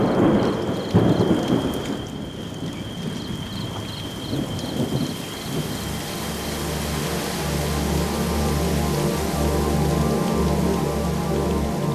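Heavy rain pours steadily on the Nilgiri hills while deep thunder rumbles and rolls, the downpour growing denser and louder toward the end.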